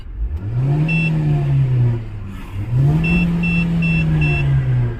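A Hyundai i20 engine, fitted with a Defi tachometer and HKS pillar meter, revs up twice in smooth rising-and-falling sweeps, close and loud, with a faint beeping chime sounding over the second rev.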